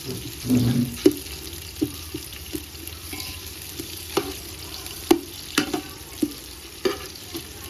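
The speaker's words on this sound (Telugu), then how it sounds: "ఆనియన్స్ కూడా ఫ్రై అయిపోతున్నాయి" Onions fry in a pan on a stove with a soft continuous sizzle, punctuated by repeated sharp clinks and scrapes of a spoon stirring at irregular intervals, close and fairly quiet.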